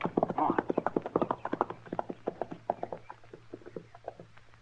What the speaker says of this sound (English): I left my horse over the rise there, Snyder.